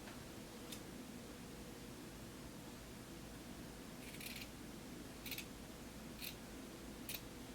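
Scissors trimming fabric from a skirt waistband with interfacing, four or five short crisp snips spaced a second or so apart over a steady hiss of faint background noise, quiet and close, with no talking.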